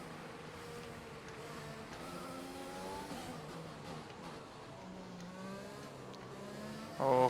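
A Formula 1 car engine in F1 2020 hums at a distance, its layered tonal whine shifting steadily in pitch as it holds speed, faint and continuous, ending with a brief louder burst.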